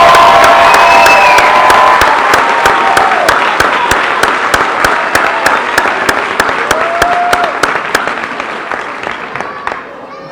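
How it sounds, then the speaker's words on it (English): A crowd at a high school graduation ceremony gives a loud, sustained round of applause with scattered cheers, steady clapping that gradually fades near the end. "one more big round of applause for all our high-set and high school graduates."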